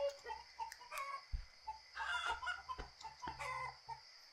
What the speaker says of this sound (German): Das Huhn gackert fast Hilfe.